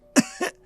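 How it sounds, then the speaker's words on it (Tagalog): A child coughing twice in quick succession, close and sharp, the second cough softer than the first. "Oh, inuubo ka na naman."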